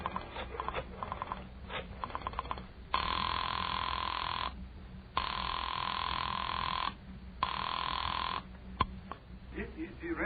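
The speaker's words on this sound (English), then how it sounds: "I dug through the telephone book and I found Dr. Matson B. Forsyth's number and I dialed it." A telephone rings through an old radio drama broadcast, with several long, loud bursts of ringing separated by pauses, and brief clicks of dialing before them.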